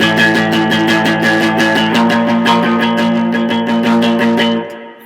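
Distorted electric guitar strumming the chorus rhythm of a song, with fast, driving chugged chords, loud and close, then the last chord cut off and ringing briefly into silence.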